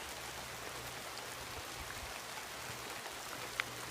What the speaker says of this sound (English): everything's so close and it's raining a lot